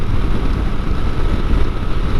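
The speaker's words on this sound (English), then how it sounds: "It's gusting pretty good from my left side." Wind gusting against a motorcycle rider's helmet on the road, a loud, constant low roar of buffeting air with uneven pulsing swells, no speech.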